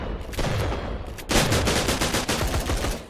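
Video game gunfire, sustained loud bursts of rapid automatic shots in two volleys separated by a short break, close and dense with no talk.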